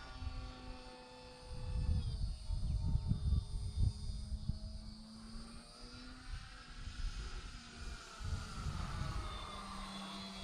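A Super Decathlon RC model airplane with a propeller engine flies overhead, its buzzing drone steady and moderately loud, rising and falling in pitch as it whips around and passes back and forth against a background hiss.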